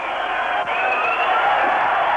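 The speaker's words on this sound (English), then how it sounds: "The hooter is sounding." A full-time hooter sounds at a 1982 rugby league match between New Zealand and Australia at Lang Park, a steady loud tone held for about two seconds over a cheering crowd.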